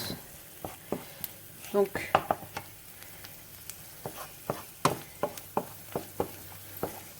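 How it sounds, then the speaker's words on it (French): Shallots sauté in a pan with a soft sizzle, broken by repeated spatula taps and stirring clatters in an irregular rhythm, close by, with a brief word of talk. "Donc là, enfin mes échalotes, pardon. Donc je les fais bien revenir."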